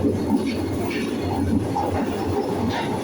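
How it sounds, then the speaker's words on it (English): A Glasgow Subway train pulls out of Buchanan Street station, producing a steady, loud rumble and rattle of wheels on track that echoes through the underground platform, with no voices. "Right, departing out now is our Glasgow subway train."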